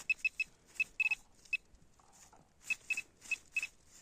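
Short, high electronic beeps chirp in irregular bursts, some doubled, with a faint low tone between them in a quiet setting.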